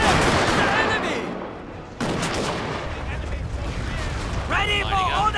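Volleys of musket fire from massed line infantry in Total War: Fall of the Samurai ring out in loud, rolling bursts, with a sharp new crack of shots about two seconds in, while a commander's voice calls orders over the gunfire.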